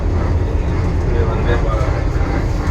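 The interior of the Vande Bharat Express train as it travels, filled with a steady, loud low rumble and rolling noise that is continuous throughout.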